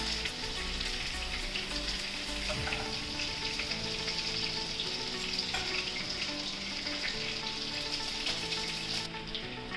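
Lobsters for a lobster curry fry in a pan with a steady, close, dense sizzle and crackle that runs unbroken throughout, with faint stirring and pan sounds and no voices.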